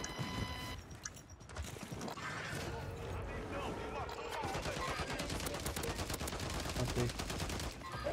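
Gunfire from a sniper engagement in the battle royale game Warzone, loud shots and dense game effects crowding the whole clip with a voice talking over them.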